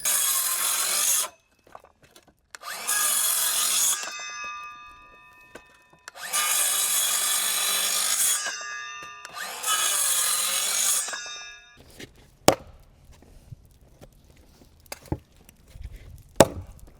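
A hand saw cuts a notch in a wooden beam to fit over anchor bolts in four rasping bursts, each a couple of seconds long with short pauses between, followed by a few sharp knocks.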